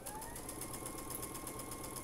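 A sewing machine stitching a pieced quilt row for a moon-and-stars block, giving a faint, steady, continuous mechanical whir with an even rhythmic hum throughout.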